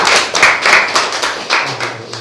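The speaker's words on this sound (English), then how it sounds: "please, round of applause for" Applause at a workshop on hiring and retaining talent, loud close claps coming in bursts that swell and fade across a couple of seconds.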